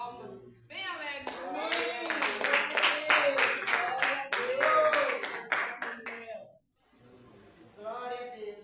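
A church congregation claps along briskly in an even, joyful rhythm, loud and close, with someone speaking over the clapping before a short pause and more talk.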